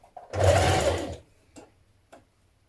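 Sewing machine stitching the front hem of a Vogue 9311 spring dress in one steady, loud burst about a second long, followed by two faint mechanical clicks, with no talking.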